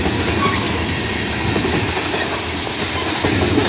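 A green freight train rolls steadily past a trackside spot at Bronte Street or Scotch Block, a continuous loud rumble with rhythmic clickety-clack of wheels over rail joints throughout.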